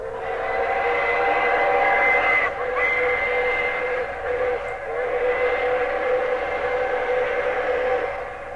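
A sustained, multi-tone steam locomotive whistle wails loudly and steadily for several seconds with a brief dip, rich and chord-like over a low rumble.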